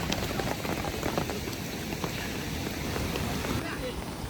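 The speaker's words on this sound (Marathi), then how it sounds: "पाऊस आलाय तर पडले जर असतील तर भेटतील आपल्याला" Steady, dense rain pours down, pattering evenly on surfaces without pause, filling the whole scene at a close, constant level.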